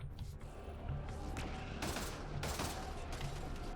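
Bursts of gunfire from a gun in the video game Mass Effect Andromeda, several loud shots over a dense game soundscape with explosive crashes.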